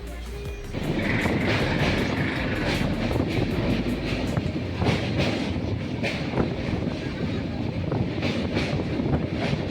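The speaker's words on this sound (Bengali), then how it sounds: "কুমারডুবি স্টেশনের পর থেকে রাস্তাতে কাজ হওয়ার কারণে আমাদের ট্রেন একটু স্লোভাবে চলছে" Steady, loud rumble and rattle of a passenger train running slowly over a section of track under repair, heard from inside the carriage with rushing wind noise and no talking.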